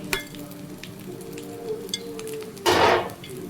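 Spoon stirring a fried spice mix with cashews and nuts in a pan, faint scraping and soft sizzling that ends in one louder burst of stirring and frying near the finish.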